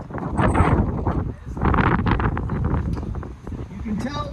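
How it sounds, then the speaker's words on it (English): Wind buffets the microphone on the coast at Derry, Northern Ireland, a steady low rumbling roar with gusts that swell and ease throughout, close and fairly loud. "You can tell that it's always windy in Ireland, right?"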